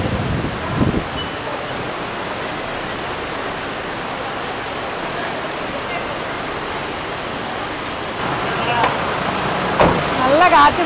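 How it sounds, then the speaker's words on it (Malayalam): Heavy rain and wind during a road trip through Kerala toward Coimbatore, a dense steady roar that fills the whole stretch and swells slightly louder near the end, with faint voices now and then. "മഴയും കാറ്റ് വന്നു."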